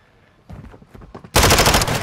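Bursts of rapid automatic gunfire in a ranked online shooter, loud and close, starting as scattered shots then erupting into a dense sustained volley at the end.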